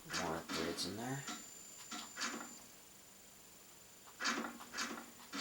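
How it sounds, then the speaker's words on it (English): Several dogs bark in the background of a room, a few short barks near the start followed by scattered single barks later, faint under a low steady hum. "Excuse my dogs in the background."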